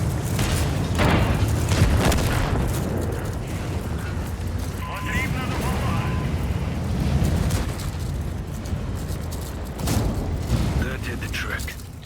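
Heavy cannon blasts in World of Tanks boom over engine rumble, with several loud shots, including fire from a Maus, and someone talking throughout.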